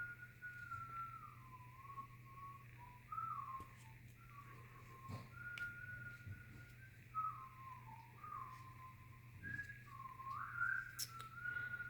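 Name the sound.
person whistling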